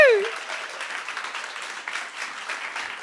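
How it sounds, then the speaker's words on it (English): Applause from an audience at a talk on Nordic female leaders, moderately loud clapping that starts after a short whistle-like tone and continues steadily at medium distance. "Anna, a big round of applause for you too for organizing all this."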